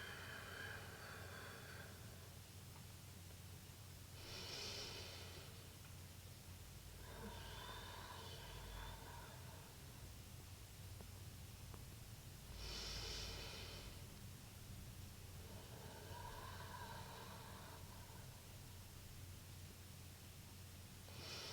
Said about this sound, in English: Try 3 more deep breaths here.